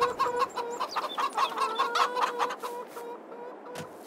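Chickens in Farming Simulator 22 clucking in a busy, overlapping flock, with repeated close clucks and squawks in quick irregular rhythm that thin out toward the end.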